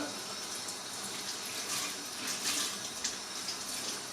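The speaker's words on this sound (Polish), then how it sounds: "Zimną wodą ją namoczę." A kitchen tap runs cold water over a cloth to soak it, a continuous bright hiss and splash at moderate loudness with small splattering bursts as the flow hits the fabric.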